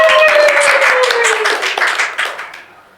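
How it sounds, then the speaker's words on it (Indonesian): Audience clapping at a marketing talk, a burst of scattered claps from a small group, loud at first and tapering off, with a voice and a gliding tone audible underneath. "Tepuk tangan dulu, Pak."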